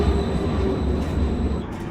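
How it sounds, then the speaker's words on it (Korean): A train pulls in on a railway running through a city centre, its loud, steady low rumble and rolling wheel noise continuous and close throughout, with no voices. "도시 한가운데 철도가 있네. 열차가 왔어요."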